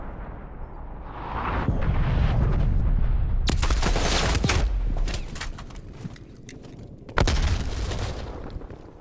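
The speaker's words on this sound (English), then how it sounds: "Hostile artillery targeting active." Artillery strike explosions in the Call of Duty Black Ops Cold War Moscow map roar as heavy, sustained booms and rumbling blasts, loud and close, followed by a sharp fresh impact near the end.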